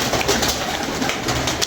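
A pigeon coos at close range in a loud, brief, throaty burst over a dense wash of ambient noise.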